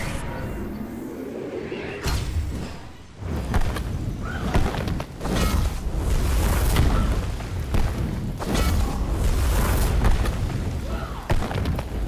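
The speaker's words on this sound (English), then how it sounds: "Your team has destroyed the left enemy tower." An enemy tower collapses in SMITE, loud booming blasts and heavy thuds rolling over a dense crash of rubble and battle noise, with several sharp hits spaced across a long, sustained roar.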